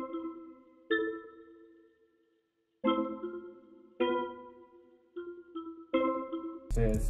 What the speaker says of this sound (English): I opened up Omnisphere with the Child Play Vibes preset